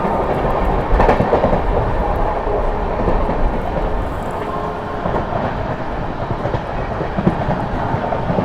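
The 22539 Mau–Anand Vihar SF Express overtakes another train, producing a loud, continuous rumble with clattering rail and wagon noise close by throughout.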